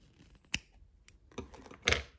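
Scissors cut through string: a few quiet, sharp snips, one crisp cut early and a louder double snip near the end, with faint handling rustles between and no voices.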